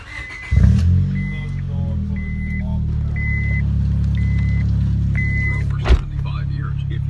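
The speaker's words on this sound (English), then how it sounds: "About to crank up the car, let the oil run." A car engine cranks and catches, then settles into a loud steady idle rumble, with a chiming alert beeping at regular intervals.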